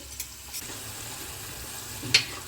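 Ginger and green chili paste sizzles in hot oil over a low-to-medium flame while making a no-onion, no-garlic radish and potato curry. The sizzle is a soft, steady crackle with a couple of brief stirring clinks, and nobody talks.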